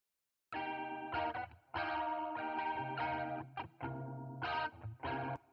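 Electric guitar run through an ab phaser effect and mixed in Dolby Atmos with overhead placement, playing sustained chords with shifting, swirling tone in several phrases, loud and close, no talking.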